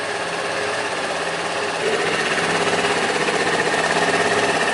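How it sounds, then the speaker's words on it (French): A small engine idles with its air filter removed while the carburetor is tuned, a steady, dense mechanical drone with a fast buzzing pulse that grows slightly louder partway through and holds near and constant. "Donc on va le faire monter en température, d'abord le moteur."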